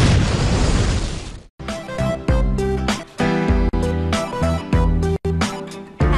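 Booming explosions and bursts from a colourful video game, a loud opening blast followed by a run of punchy detonations over a musical soundtrack, with brief cuts of silence between them.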